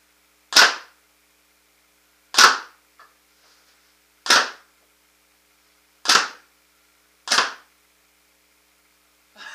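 Proto Matrix Rail (PMR) 2011 paintball marker with stock setup firing five loud, sharp shots spaced about two seconds apart, each a crisp pop with a brief airy tail, with no talk.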